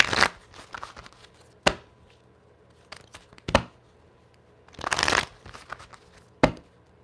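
Tarot cards being shuffled by hand in a quiet room, quick riffling bursts and soft taps arriving in irregular clusters, close and fairly faint, with no voices over them.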